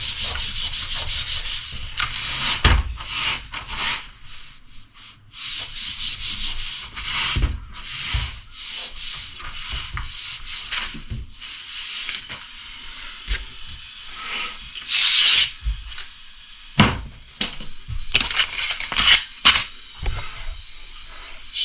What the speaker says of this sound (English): squeegee it down, kind of go in a semi-circle motion.